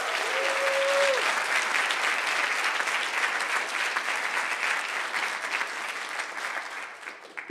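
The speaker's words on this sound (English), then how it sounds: "Can we give her another round of applause?" An audience at a morning creative talk breaks into sustained, dense applause that holds loud and even throughout, with a brief voice near the start.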